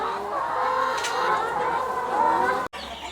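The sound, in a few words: chickens clucking in a poultry house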